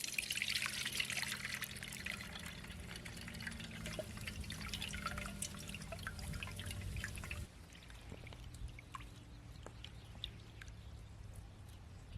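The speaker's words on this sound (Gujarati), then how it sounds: "દાળના ધોઈ નાખીએ" Water trickles and drips steadily while lentils are washed in a village kitchen, a continuous light splashing with small droplet ticks, quieter in the last few seconds, and no talking.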